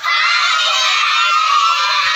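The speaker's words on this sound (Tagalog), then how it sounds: "sigaw nyo ngayon malakas sa may birthday, Yana!" Guests at a first birthday party shout loudly together, a sustained dense wall of high-pitched screaming and yelling voices from a crowd that includes children, held evenly for about two seconds.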